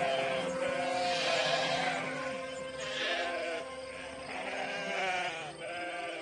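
Sheep bleat in a real sheep barn, several overlapping calls rising and falling in repeated waves, fairly close and clear with quiet farm ambience between them.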